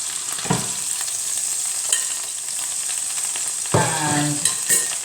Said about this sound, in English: Remove our turkey meat from the frying pan